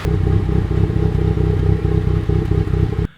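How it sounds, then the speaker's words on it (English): A K-series engine swapped into a Honda Insight idles with a VTEC killer setup, giving a loud, steady, lumpy idle with a rhythmic low pulsing and light clatter throughout, then cutting off abruptly near the end. "So the idle on the VTEC killer setup is actually sounds pretty cool."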